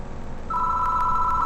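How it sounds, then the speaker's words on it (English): Telephone in the horror game Spirit Hunter NG starts a sharp, steady electronic ring that sounds close and clear over a low ambient drone, with no talking. "Doesn't seem to want to stop ringing, so I reach for the phone."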